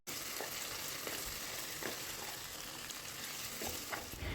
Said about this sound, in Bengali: পেঁয়াজটাকে নেড়ে চেড়ে একটু ভাজা ভাজা করে নিতে হবে